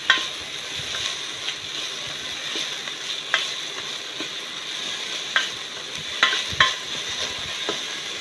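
A large onion sizzles and fries in a pan, with a steady loud crackle and occasional stirring scrapes and clinks, no talking over it.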